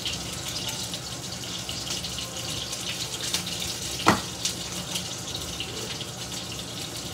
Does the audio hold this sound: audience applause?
no